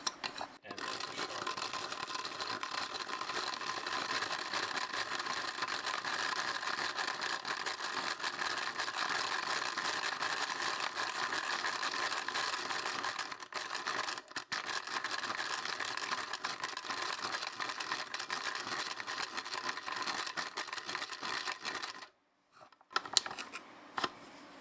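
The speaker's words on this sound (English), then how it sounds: "So let's go ahead and sharpen a pencil with this." A vintage Boston Champion pencil sharpener grinds a pencil in one long, continuous rasping crank, close and steady, then stops with a brief rattle at the end; no voices.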